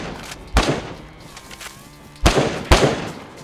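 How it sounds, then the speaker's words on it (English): Gunshots in the video game DayZ: three sharp, loud cracks, one alone and then a close pair about half a second apart, with quiet background between. "Is that you shooting?"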